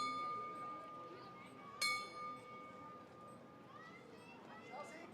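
A last-lap bell rings at an outdoor track meet in Potchefstroom Stadium, a sharp strike with a sustained ringing tone, set against crowd murmur and children's voices while an announcer talks.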